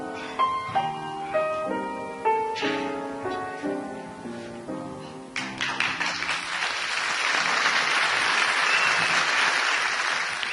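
Piano chords close out a live performance at the Sands, then an audience breaks into sustained applause that swells into a dense, continuous roar of clapping in a lively room.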